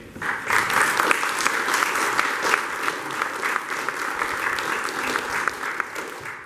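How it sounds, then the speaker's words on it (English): Sustained audience applause at a church rededication service, steady dense clapping from a crowd in a hall, fairly loud and continuous for several seconds with no talking over it. "So please give him a hand."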